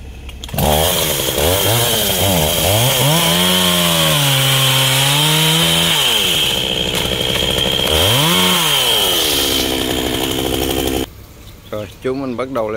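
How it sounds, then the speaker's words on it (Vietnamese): A chainsaw roars loudly and steadily for about ten seconds, its engine pitch rising and dipping as it bites into a melaleuca tree, then cuts off abruptly. "Cưa cái cây tràm này là ở cầu Chu"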